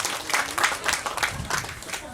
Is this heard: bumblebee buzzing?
no